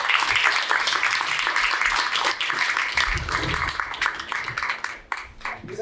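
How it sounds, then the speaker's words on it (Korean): An audience at a seminar applauds to welcome a star chef to the stage, a sustained wash of many hands clapping that thins out toward the end, with a voice faintly present. "우리 스타 셰프 한영용 대표님 큰 박수로 무대로 모시겠습니다"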